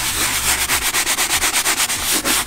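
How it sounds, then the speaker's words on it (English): A boat's non-skid deck is scrubbed hard with deck cleaner, producing loud, close, rhythmic brushing strokes in a fast steady cadence of roughly five per second with no talking. "Now we're gonna scrub."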